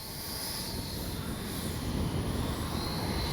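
An RC F-15 model with 64mm electric ducted-fan jets makes a flying pass, a steady rushing jet whine at moderate distance that swells slightly toward the end, with no talk.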